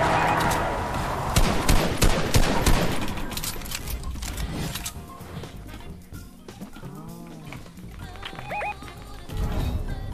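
Gunfire in the Fortnite video game, with rapid bursts of shots and impacts that are densest early on, then thinning into scattered effects and metallic game sounds, fairly loud throughout.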